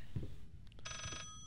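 A telephone rings in the horror game Layers of Fear, one short electronic trill of stacked tones that breaks off suddenly over a low, dark ambient hum.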